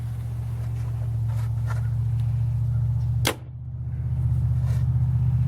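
Arrow fired from an 85 lb compound bow, heard as a single sharp snap and thwack over a steady engine hum, followed by a brief dip and return of the background drone.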